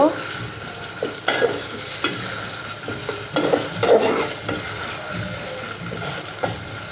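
Ginger garlic paste frying with onion and chilli in a pan, a steady close sizzle with irregular scraping stirs and clinks of the spoon throughout, no talking.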